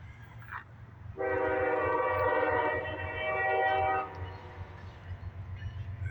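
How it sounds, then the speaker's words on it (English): A northbound CSX freight train in a residential neighborhood of Dayton, Ohio sounds a long, loud horn blast in two swelling parts over a steady low rumble, then the rumble carries on after the horn stops. "Here's this CSX and it's rumbling too."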